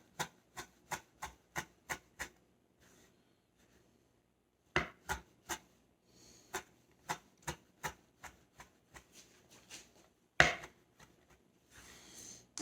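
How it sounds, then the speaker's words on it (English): Fresh parsley being chopped with a knife on a cutting board: a run of sharp, evenly spaced chops, a pause, then more irregular strikes and a faint scrape, close and clear. "When I chop my parsley, I actually start a little bit like this, just to kind of get the bulk of the parsley down."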